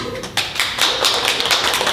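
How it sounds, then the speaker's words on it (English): A book-launch audience at a bookstore claps together, a dense wash of hand claps that swells and carries on steadily for about two seconds with no talking. "Clap if you sit next to someone beautiful."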